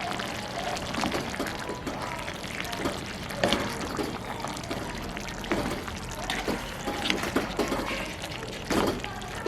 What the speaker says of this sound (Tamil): இதுக்கு நாங்களும் கொஞ்சம் தண்ணி விட போகிறோம்.